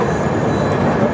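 A double-decker express train on the Mumbai–Ahmedabad route passes close alongside while overtaking, a loud, dense rumble of wheels and rail noise that fills the short moment without letup.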